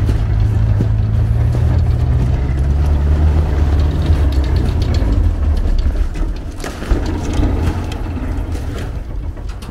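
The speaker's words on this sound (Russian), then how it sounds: "Вот сейчас мотора не хватило, я соглашусь, это была вторая передача, сейчас включим первую." A turbo tractor engine labours in second gear on rough terrain, a loud low drone that sags and drops in pitch as it strains, with wind buffeting and rattles over it.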